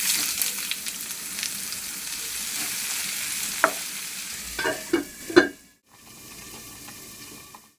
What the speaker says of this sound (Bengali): এবার চাল কুমড়োটা ভাজতে বসিয়ে দিলাম